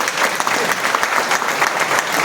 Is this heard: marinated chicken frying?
no